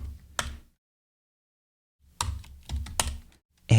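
Keys clacking on a computer keyboard in two short bursts separated by a couple of seconds of silence, close and crisp.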